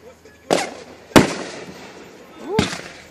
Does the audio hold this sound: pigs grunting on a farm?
no